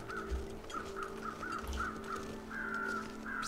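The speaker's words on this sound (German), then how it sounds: "So höre ich da oben Krähen" Crows cawing in the snowy survival game The Long Dark, a run of repeated harsh caws at a steady rhythm over a constant low wind-like game ambience, no talk.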